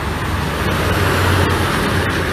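Scania K410 bus overtaking on the left along a toll road, a steady broad roar of engine and tyres holding close and loud throughout without a clear pass-by peak.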